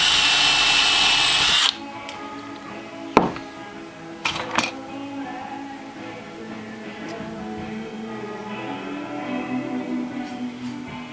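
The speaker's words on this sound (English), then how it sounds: "almost snapped the drill bit" A power drill whines loudly into a small wooden block for a moment, then stops abruptly, followed by a few sharp knocks and clatters of the tool and bit in a quiet workshop.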